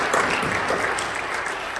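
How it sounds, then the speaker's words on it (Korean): Steady applause from a church congregation at a Friday night service, dense clapping filling the whole moment at an even level. "박수로 보내주십시오."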